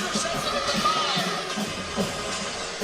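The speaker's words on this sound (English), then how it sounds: "as you hear the crowd getting fired up" A crowd at a college football game in East Mississippi, moments before the opening kickoff, makes a steady distant roar with scattered shouts, heard under a nearby announcer's voice.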